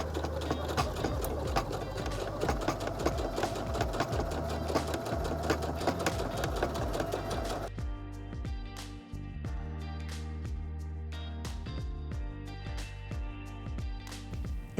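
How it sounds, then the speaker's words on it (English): A heavy duty sewing machine with an HD6805C needle stitches steadily over a thick seam, its loud mechanical chatter running for about eight seconds before dropping to a quieter, sparser ticking. "Keep your finger on it momentarily as you sew over the thick seam"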